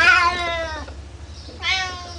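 Pet cat meowing up close, two distinct drawn-out meows separated by a short pause, loud and alone without talk.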